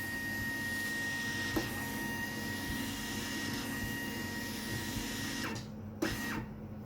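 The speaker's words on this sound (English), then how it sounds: "the printer's now going to do a calibration process" A Toshiba FV4 label printer runs its media calibration, a steady mechanical hum and whir with faint tonal whine and a couple of brief clicks near the end.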